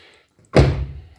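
A rear door of a VAZ Kalina shutting with one solid, close thunk and a short rattle as it settles, with no voices.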